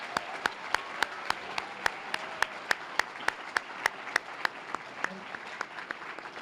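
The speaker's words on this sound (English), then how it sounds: "let's give them another round of applause this evening" Audience applause at a Silver Stars honors event, sustained crowd clapping with one sharp, steady nearby clapper standing out rhythmically over the wash.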